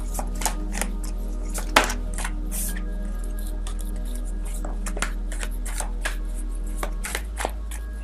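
Tarot cards are shuffled by hand in a steady run of soft, papery riffles and taps, close and quiet, over a low constant hum with no voices.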